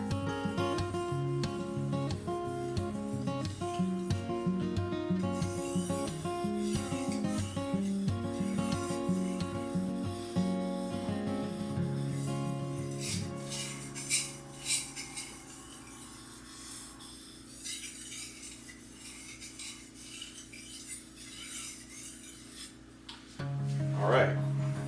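A kitchen knife edge is polished on a wet sharpening stone, giving close, rhythmic rubbing and rasping strokes that grow smoother and softer as the clip goes on, with a person speaking over parts of it.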